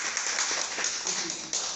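A seminar audience claps together at an investment talk, a dense burst of many hands that stays steady for under two seconds.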